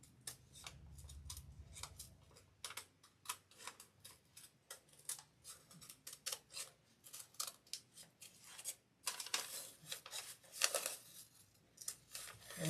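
Scissors snip and trim the edge of a paper gingerbread-girl candle topper, with repeated close, crisp cuts and paper rustling in a quiet room, with no one talking.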